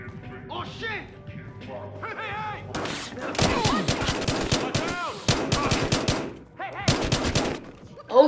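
Rapid bursts of automatic gunfire crackle in repeated volleys in the video game Battlefield Hardline, with sharp impacts and crashes mixed in, and a voice shouting at the start.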